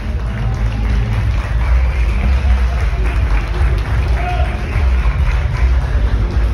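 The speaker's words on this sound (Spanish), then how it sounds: "Pido fuerte aplauso para ellos y ellas." Loud, dense applause from a crowded room at a flamenco press conference honouring Bob Marley, continuous clapping mixed with crowd murmur and shuffling throughout.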